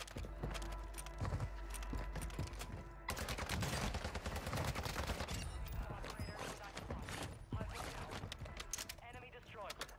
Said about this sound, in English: this new AR in Warzone with the fire rounds go crazy. I just deaded somebody off with them